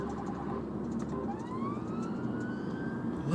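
A UK ambulance siren wails through traffic as it approaches cars, the tone rising and sweeping steadily over a dense rumble of road noise, close and fairly loud throughout.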